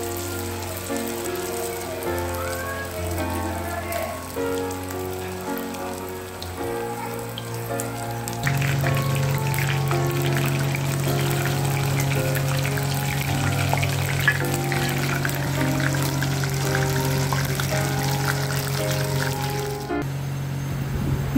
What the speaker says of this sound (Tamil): நான் refined oil ல தான் பொரிக்கிறேன்